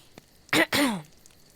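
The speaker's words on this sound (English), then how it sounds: "I gave a cough." A single throat-clearing cough, two close bursts in quick succession, fairly loud and near, heard alone in a quiet room.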